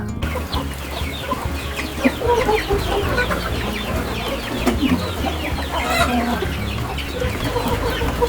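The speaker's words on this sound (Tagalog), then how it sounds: "Magpakain na tayo ng mga manok." A flock of farm chickens clucks busily at feeding time, steady overlapping clucks and squawks close by, with no talk, as feed of rice bran and corn mixed with reject tomatoes is being prepared.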